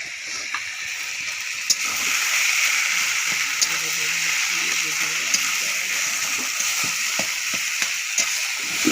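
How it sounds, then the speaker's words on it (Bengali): Food frying in ghee gives a steady broadband sizzle, with soft scraping and clinks as it is stirred, close and continuous with occasional sharper taps. "দিয়ে ভালো করে কষছি"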